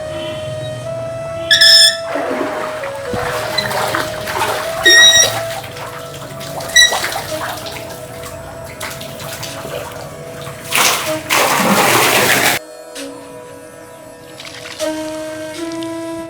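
Water at the ancient well of Puran Bhagat near Sialkot runs and splashes from a tap-like flow, with bursts of louder gushing, a steady tonal hum and occasional whistle-like chirps in the background.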